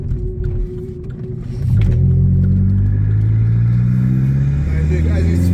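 Vauxhall Corsa VXR Nurburgring Edition with a cat-back exhaust revving as the turbo spools, a loud, close engine drone rising in pitch and holding steady after an opening idle, with voices faintly underneath.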